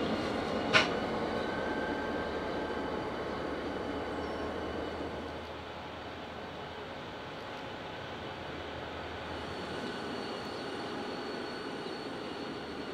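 Train hauled by Victorian Railways locomotives, including S307, on a heritage trip: a steady rumbling engine drone fills the scene, with one sharp brief knock near the start, no voices.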